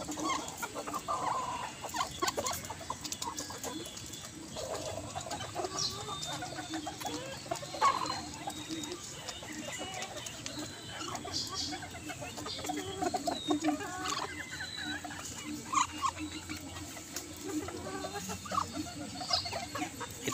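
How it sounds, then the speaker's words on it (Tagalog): Backyard bantam chickens cluck and chatter steadily at low volume throughout, with occasional louder calls, over faint outdoor background noise. "Nauhaw ang aking bantam."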